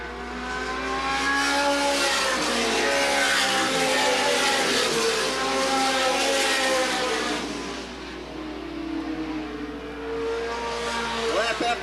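Late model race cars racing at Sandusky Speedway, a loud pack of engines roaring and droning continuously as they sweep past, with a public address announcer calling the race over the noise.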